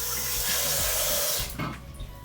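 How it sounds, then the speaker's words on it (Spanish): A kitchen tap runs hard into a container, making a loud, steady hiss and splash that fills most of the stretch before it cuts off, followed by a few softer handling knocks. "Voy a rellenar de agua"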